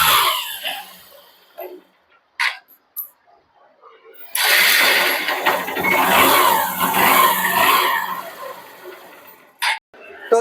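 A Honda Shine motorcycle engine runs close by for several seconds, loud and steady after a start-up burst, with a person talking briefly before and after the engine noise.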